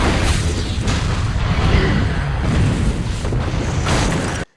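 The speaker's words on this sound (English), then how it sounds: "Somehow this sends Clear to Angry Guy, which induces oxygen into his room, and kaboom" An explosion in the movie Final Destination 2 sets off a sustained, loud, rumbling roar that continues for over four seconds before cutting off sharply.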